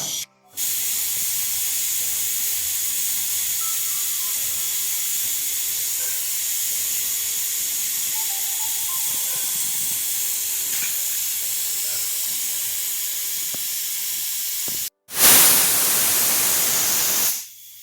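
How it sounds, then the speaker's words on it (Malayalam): A pressure cooker with njavara rice porridge hisses steadily and loudly for a long stretch as steam escapes, then after a brief break a louder, harsher blast of venting steam bursts out. "അപ്പോൾ അങ്ങനെ വിസിലെല്ലാം വന്നു കഴിഞ്ഞിട്ടുണ്ട് അപ്പോൾ കുക്കർ തുറന്ന് നോക്കാം"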